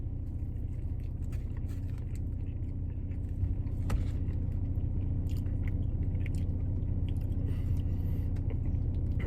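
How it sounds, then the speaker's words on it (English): A burger is bitten and chewed up close with soft crunches and moist squishing over a steady low hum, without speech. "we're gonna have to take a couple more bites to see what's fully good with this thing"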